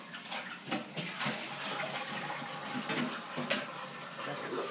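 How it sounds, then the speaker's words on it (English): Tap water runs steadily while a utensil is rinsed off during bread making, a continuous splashing wash with small clinks and shifts in the flow, close and moderately loud, with no speech. "I'm going to wash this off real quick."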